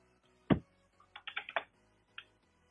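Typing on a computer keyboard during PCB design work: a handful of sharp, close key clicks, one isolated tap followed by a quick burst of several keystrokes and a final lone press, in an otherwise quiet room.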